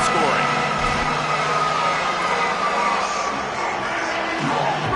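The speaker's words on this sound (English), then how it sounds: "This crowd ready to make its presence known." A football stadium crowd roars as a dense, steady wash of noise that stays loud from start to finish, with a commentator's voice talking over it.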